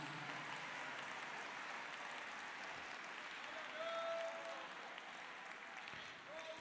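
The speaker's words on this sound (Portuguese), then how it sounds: "Aplauda o Senhor Jesus." Church congregation applauding, a steady wash of many hands clapping, fairly distant and soft, with a faint voice or tone rising briefly midway.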